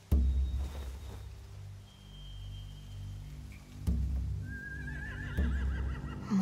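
Horses neighing in The Walking Dead video game, a sharp whinny at the start and a wavering, trilling neigh near the end over low ambient rumble and faint stray sounds.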